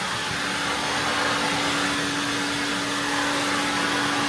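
Prolux CTX vacuum cleaner running at a steady, loud whine with a constant tone, heard close up and alone.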